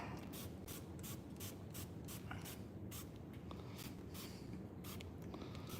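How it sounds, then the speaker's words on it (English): Repeated short hissing sprays from a spray bottle, fired in a quick irregular series, fairly close and moderately quiet. "just spray this stuff on here, kind of, and let it set in"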